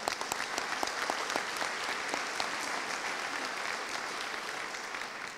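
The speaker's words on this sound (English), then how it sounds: "So give yourselves a round of applause." An audience of educators applauds at a district Educator of the Year event in Santa Ana, with steady, dense clapping that fills the room and holds an even level from start to finish, with no voices above it.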